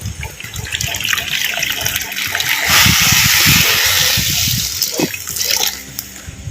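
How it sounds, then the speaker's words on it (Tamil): Two cups of plain water pour steadily into kodo millet rice in a pot for beetroot pulao, a close, continuous gushing splash lasting several seconds with faint background noise. "அதே கோப்பையில் பச்சை தண்ணியை ரெண்டு கோப்பை வந்து சேர்த்துக்கிறோம்"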